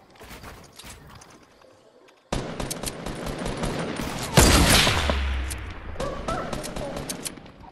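Video game gunfire crackles in rapid bursts, starting quiet and then turning loud and close with sustained automatic fire and a heavy blast, while a voice talks over it.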